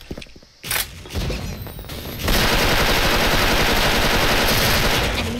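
Rapid bursts of M4 rifle fire in the shooter game Special Force, short shots at first, then a loud, sustained automatic stream that runs to the end.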